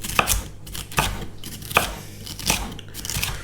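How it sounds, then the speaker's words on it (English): A knife chops through food on a cutting board at a steady pace, making about five sharp, close thuds roughly half a second apart. A low hum runs underneath, and no one speaks. "we're just gonna chop them up just into slices like that"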